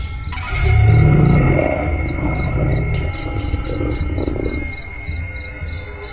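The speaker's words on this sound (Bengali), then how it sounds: "শুধু কুয়াশা আর ঝিঁঝি পোকার শব্দ" Steady insect chirring, like crickets at night, runs throughout alongside a low rumbling drone that swells early and then eases off.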